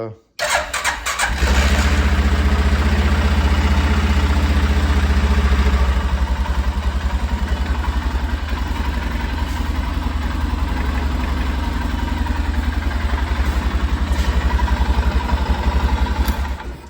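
A Ski-Doo Safari snowmobile engine cranks and catches, then settles into a steady, loud, close idle with a rapid even putter that holds for many seconds.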